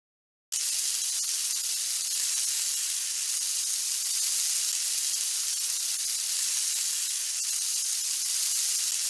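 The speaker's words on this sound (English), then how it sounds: "We need to melt some butter in the pan so the pancakes won't stick." Butter sizzles in a hot pan in a cartoon pancake-making game, a loud steady hiss that starts abruptly and holds evenly with no talking.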